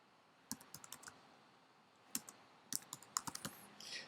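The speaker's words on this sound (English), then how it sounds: "So we click on that and we type our text." Title text typed on a computer keyboard in Windows Movie Maker on XP: scattered quiet key clicks in short bursts with gaps, faint and close.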